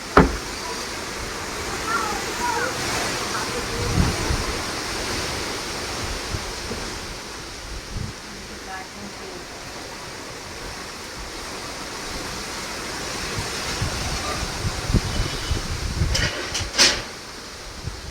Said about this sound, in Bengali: বিশাল জোরে ঝড় উঠেছে